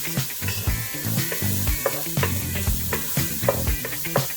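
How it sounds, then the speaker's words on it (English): Cumin and curry powder frying in olive oil in a pan, a steady close sizzle with crackling pops and bursts of stirring throughout. "I put some olive oil in there, and I kind of like cook the curry, the cumin, and the curry powder."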